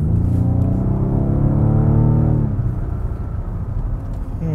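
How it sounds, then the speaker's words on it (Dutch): Rolls-Royce Wraith Black Badge from 2017 with its exhaust switched to the louder low mode, giving a loud, close, steady engine rumble with rising harmonic tones for about two seconds before settling into a lower, rougher drone. "Dan gaat het uitlaatsysteem meer geluid maken."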